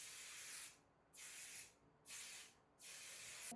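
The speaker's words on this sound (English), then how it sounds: "Then I follow in with the setting spray." Makeup setting spray misted in four bursts, each a bright, close hiss lasting about half a second with short silent gaps between them.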